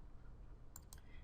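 A quiet computer mouse double click, two quick sharp clicks close together against a low background hum.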